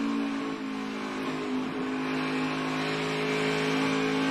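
A NASCAR Xfinity race car at Atlanta, its engine droning steadily at mid pitch with slight swells and dips as the driver modulates the throttle, heard as continuous loud track noise with no voices.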